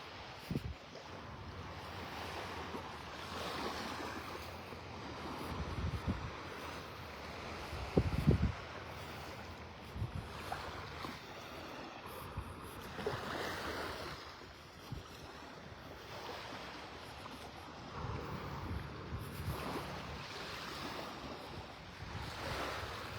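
Gentle surf washes onto the beach at Delnor-Wiggins State Park in North Naples, with soft waves swelling and receding in a slow rhythm under light wind noise, faint and fairly distant.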